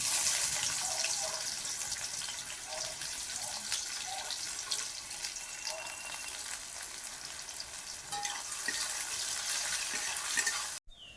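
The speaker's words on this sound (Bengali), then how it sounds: "পেঁয়াজটা লাল করে ভাজা হয়ে যাবে" Chopped onion fries in hot oil with sugar, bay leaf and whole garam masala for chicken, a continuous gentle sizzle with faint bubbling pops and a clack near the end, no voices.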